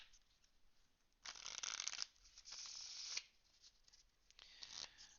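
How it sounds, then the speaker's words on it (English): A deck of playing cards being riffle shuffled, crisp close fluttering bursts as the halves interleave, three or four separate riffles with short quiet pauses between them. "one last riffle shuffle here, and then we'll draw a card"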